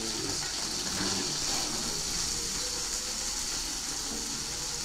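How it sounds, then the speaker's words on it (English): Water is poured into a pot while cooking, a steady splashing gush that runs unbroken at moderate level. "And I'm going to put a little water."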